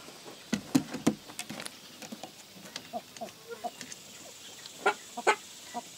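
A Leghorn rooster and chickens cluck in a series of short, sharp calls, some close and loud, others softer, with scattered pauses between them.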